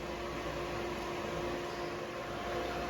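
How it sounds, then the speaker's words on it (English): A transmission tunnel seam on a car body is welded in one continuous pass all the way around, giving a steady, fairly loud hiss with a faint underlying hum that holds without a break. "now I'm just going to weld it all in one shot all the way around"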